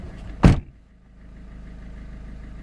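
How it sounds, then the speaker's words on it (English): A Peugeot 3008 car door slams shut once with a sharp, loud thud, followed by the low hum of the engine idling. "Let me close this door just to make sure."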